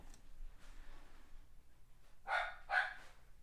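Abner the dog gives two sharp barks in quick succession at feeding time, somewhat distant against a quiet room.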